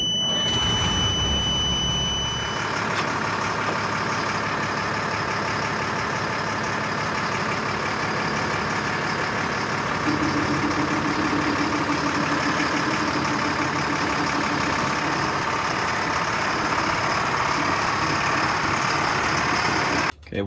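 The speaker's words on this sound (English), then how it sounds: "So let's get the other truck fired up." An LMTV military truck's diesel engine runs in a steady, loud, continuous drone with a rough low rumble and high whine, changing slightly partway through.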